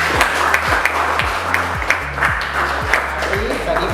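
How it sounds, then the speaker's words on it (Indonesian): Classroom applause for a student group that has just finished presenting, a steady wash of clapping from many hands filling the room at close range and moderate loudness, with voices mixed in underneath. "berikan aplaus untuk kelompok 1"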